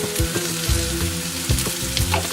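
Onions and bay leaves sizzling in a pan, a close, steady crackling fry with a few sharper pops and stirring scrapes, no voices.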